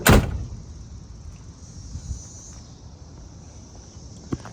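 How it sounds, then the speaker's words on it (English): A 1966 Chevrolet Chevelle's door shuts with one solid, close thud at the very start, followed by quiet surroundings and a faint steady hiss. "Close that door all the way."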